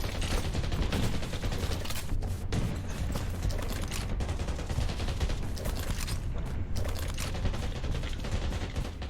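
A multiplayer shooter video game in a team match produces dense, continuous gunfire, with rapid overlapping shots, automatic bursts and occasional booms, loud and sustained throughout.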